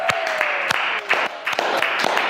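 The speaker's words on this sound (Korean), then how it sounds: "박수 한번 치고 시작할까요?" A small group claps together at close range, sharp separate hand claps in a quick irregular rhythm over a couple of seconds.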